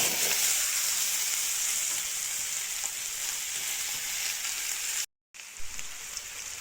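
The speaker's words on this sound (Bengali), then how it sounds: "কড়াইয়ে তেল গরম হয়ে গেছে আলুটা দিয়ে দেবো" Cut potatoes dropped into hot oil in a wok sizzle in a dense, steady hiss that holds evenly, with a brief silent cut near the end before the frying resumes a little quieter.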